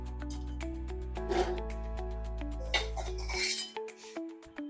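Dry-roasted rice is scooped out of a pan with a metal utensil, making scattered clinks and scraping rattles over a steady background hum that cuts out near the end.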